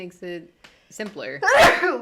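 One loud sneeze bursts out at the end of a short stretch of a person talking, close and abrupt.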